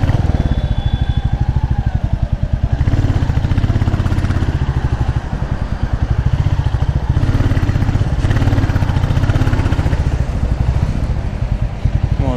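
A Royal Enfield Classic Reborn motorcycle engine runs steadily close by, a loud, even thumping idle with a slight clattering texture that continues throughout without pause.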